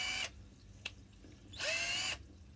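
Parkside PBSA 12 C2 cordless 12 V two-gear drill driver running in short bursts: two loud whirring runs, the second with a rising motor whine as it spins up, plus a brief click between them, with no talk.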